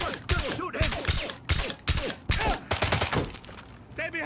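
Gunfire during a Bangkok firefight in the James Bond 007: Blood Stone video game, bursts of close shots mixed with shouting voices and combat noise throughout.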